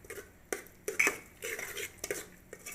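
Potatoes with turmeric powder being stirred in a cooking pot for aloo tomato curry, giving intermittent close scraping and clinking of a utensil against the pot in short, irregular strokes.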